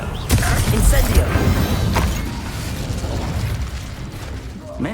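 In the video game Hogwarts Legacy, an Incendio fire spell bursts out with a loud whooshing blast and crackling rumble that fades into a sustained roar, with a smaller pop near the end.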